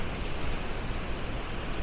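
A waterfall in Iceland roars as a dense, continuous wash of broadband noise, loud and close, with no talk over it.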